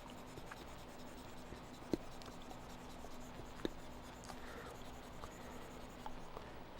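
Eraser rubbed across a classroom board, a faint steady swishing under a low background hum with a couple of soft taps, quiet and distant-sounding.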